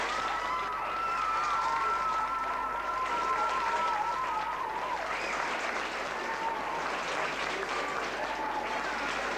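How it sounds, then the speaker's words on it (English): A crowd claps steadily and loudly for several seconds, a dense, sustained round of applause with faint cheering mixed in. "I think they deserve a round of applause here tonight."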